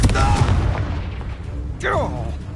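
A Confringo fire spell exploding in the Hogwarts Legacy video game, heard as short bursting booms with a sharper crack near the end, mixed with voices.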